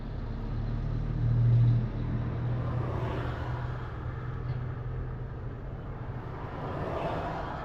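Road traffic at a city crossing in Wellington, New Zealand: steady engine rumble and passing cars, with a louder low surge near the start and no talk.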